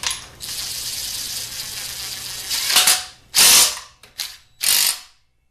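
A ratchet tightens a bolt on a transmission during a gearbox rebuild, with a long run of rapid metallic clicking up close. A few short bursts of ratcheting follow, then it goes silent.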